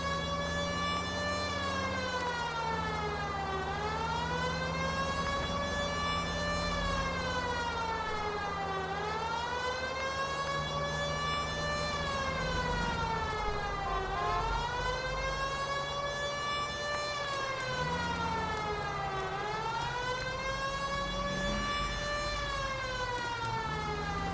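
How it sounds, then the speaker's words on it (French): A police car siren in L.A. Noire wails in long, slow rising and falling sweeps, loud and continuous over a low engine rumble, cycling about every six seconds. "Je m'amuse un peu avec la sirène, parce que pourquoi pas."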